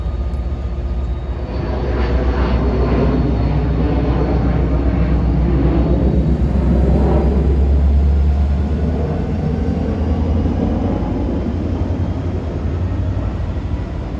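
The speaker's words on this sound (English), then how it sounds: "you can hear airplanes passing that have just taken off from Teterboro Airport" An airplane climbing out from Teterboro Airport passes overhead as a loud, steady low rumble that swells and lingers, blended with the deep drone of a nearby diesel locomotive engine.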